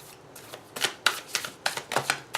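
A tarot deck is shuffled in a quick series of close, crisp card flicks and riffles, five or six distinct bursts in a brief span.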